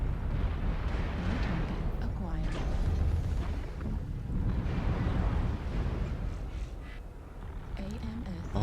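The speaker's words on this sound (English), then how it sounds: "All those missiles." Missile barrages and explosions in the MechWarrior Online mech combat game, a dense continuous rumble of blasts and booming impacts running throughout, with a voice talking over the battle noise.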